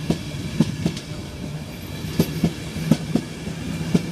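Train moving through Northallerton station, wheels clicking rhythmically over rail joints with occasional louder clacks, steady and fairly close, no talking.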